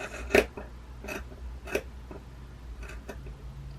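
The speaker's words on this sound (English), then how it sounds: "we're trimming the seam allowances to a 1/4 inch, which is going to take off some of this" Fabric seam allowances being trimmed with scissors, a few sparse, quiet snips spaced irregularly with faint room noise between them.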